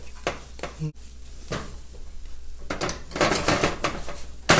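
Spoon stirring a sticky, not-too-sweet dessert mixture in a kawali pan: close scraping strokes in uneven bursts, growing denser and louder toward the end, with no talk.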